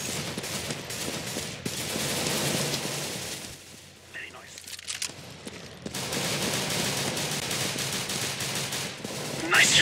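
Video game gunfire crackles in rapid, dense bursts with a short quieter gap partway through, and someone talks over the shooting.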